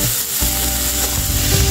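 Vegetables sizzle and fry in a hot pan for a Kolkata-style vegetable chop, a steady close crackle with some stirring, no voices.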